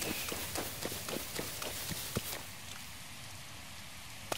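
Rain falls in Zelda: Breath of the Wild, a soft steady hiss under faint rhythmic footfall-like taps during the first half, then a quieter even wash of rainfall alone.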